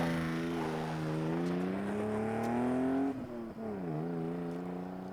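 A car engine in the As Dusk Falls video game hums steadily while driving, its pitch rising gradually then dropping briefly before settling again, moderately loud and close with no talk.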